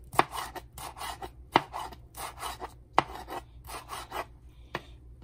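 A knife slicing sayote (chayote) into strips on a cutting board, a steady rhythm of close, crisp rasping strokes with sharp taps as the blade meets the board.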